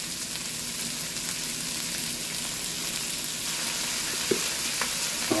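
Herbs sauté in hot oil in a pan for Jamaican brown stew snapper with okra, giving a steady, close sizzle throughout with a couple of faint utensil taps near the end and no talking.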